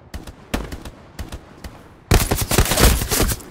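Tank gunfire in the World War II shooter game Hell Let Loose, with scattered distant shots and thuds, then a loud dense burst of firing and booms in the last second and a half.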